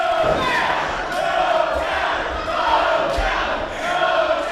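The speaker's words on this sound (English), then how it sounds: "Baby Keef getting this crowd riled up" A wrestling crowd at a WWN Proving Ground show shouts and cheers in a continuous loud roar, with rising yells swelling several times throughout.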